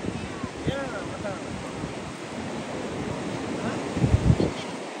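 Sea waves and wind on a beach in Goa, a continuous rushing surf with gusty wind noise on the microphone and brief distant voices.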